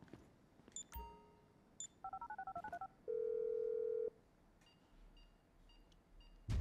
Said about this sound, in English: Bring up the phone. I'm making the call.